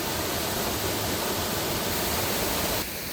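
Gusong waterfall near Obongsan pouring down in a dense, continuous roar of falling water, loud and close, steady throughout before dropping slightly at the very end.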